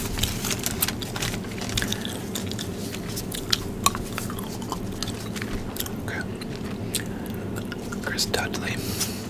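Close, soft gum chewing with wet, squishy bites repeating steadily, alongside faint card handling and quiet whispered talk.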